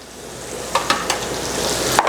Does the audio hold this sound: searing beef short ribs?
yes